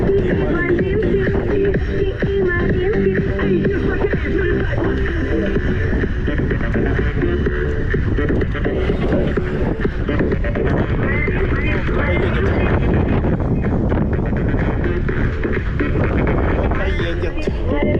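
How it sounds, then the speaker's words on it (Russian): Strong wind buffets the microphone in a steady, rough roar that runs the whole time, close and loud, with faint shuffling underneath. "Капец ветер."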